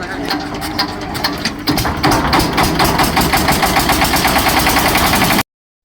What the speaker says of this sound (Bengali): দেখতে পারবেন কীরকম করে মেশিনটা আমি স্টার্ট দেই